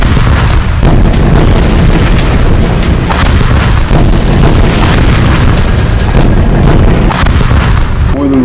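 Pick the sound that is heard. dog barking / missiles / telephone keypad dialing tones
missiles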